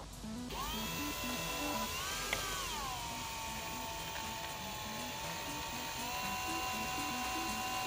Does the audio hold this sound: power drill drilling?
yes